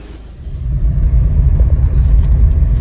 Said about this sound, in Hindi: तो गाड़ी निकाल ली है पार्किंग से बाहर